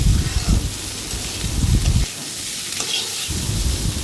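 Onion and boiled, lightly crushed small potatoes frying in a pan while being stirred, with steady sizzling and intermittent scraping strokes, close and fairly loud.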